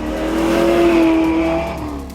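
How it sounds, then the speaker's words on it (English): A V8 muscle car engine revs with a loud, steady, throaty roar that swells and then eases slightly over a couple of seconds, heard close with no talking. "It's got that nice stance and that good old V8 sound."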